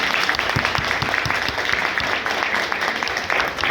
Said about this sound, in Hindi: और एक बार ताली बजाइए।